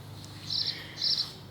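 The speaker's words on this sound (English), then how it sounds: "Hear those birds?" Birds give two short high chirps outdoors, faint and distant over a steady low background hum, with no talking.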